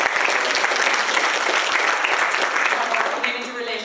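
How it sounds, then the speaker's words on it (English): Applause from a crowd at a hospital community event, steady dense clapping throughout, easing slightly toward the end. "We could give a round of applause."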